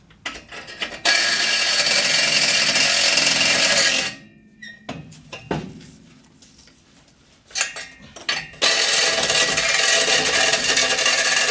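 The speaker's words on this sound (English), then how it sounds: "Because it bites and it stops the whole sawzall." Corded reciprocating saw cutting through an exhaust manifold on a stored 454 engine: loud harsh bursts of cutting that break off and stall briefly midway before running steadily again, with no talk.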